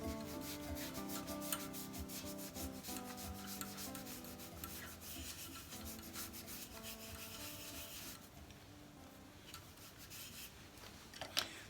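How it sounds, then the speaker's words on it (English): Wooden captive rings being rubbed with oil and pumice stones make a continuous, fast back-and-forth scratchy friction, close and steady, with a lighter, quieter stretch near the end. "Just give it a good coating and let the oil and the pumice stones do its work."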